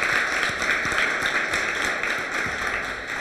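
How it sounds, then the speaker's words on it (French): An audience claps at a school debate competition between Lycée David Diop Mendes and Lycée Galandou Diouf, a sustained dense round of applause at fairly loud, even level, with some distinct individual claps standing out. "applaudissez un peu"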